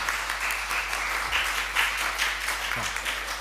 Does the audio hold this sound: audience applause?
yes